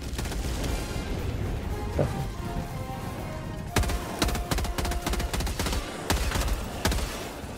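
Burst fire from the AR Liberator rifle in the Helldivers 2 video game, heard as dense, loud rattling gunfire that cuts out about halfway and returns as sharp, separate clusters of shots over constant battle noise.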